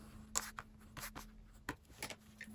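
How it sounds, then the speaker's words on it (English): Bone folder rubbed firmly over chipboard, producing short scratchy rubbing strokes in uneven bursts, close and fairly quiet over a low steady hum. "Now burnish with your bone folder to get a good stick"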